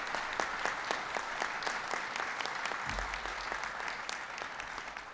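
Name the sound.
audience applause for Jason Furman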